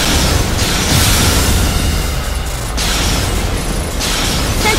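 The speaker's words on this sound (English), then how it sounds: "Central cannon, launch sequence complete!" Loud, dense mechanical rumbling and hissing fill the scene continuously, with surging bursts like heavy machinery powering up during a central cannon launch sequence in a video game.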